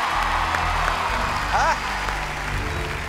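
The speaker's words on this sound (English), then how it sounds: "You're going to get a round of applause." Audience applause at a magic act on a televised talent show rolls on steadily, a dense wash of clapping from a crowd, with a short whoop or voice rising briefly above it.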